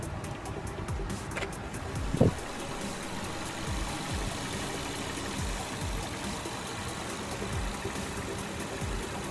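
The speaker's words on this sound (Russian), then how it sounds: "Двигатель работает ровно." A Honda Jazz with a freshly installed 1.3-litre L13A1 engine idles steadily, a moderate continuous hum close by, with a couple of brief clicks or knocks early on.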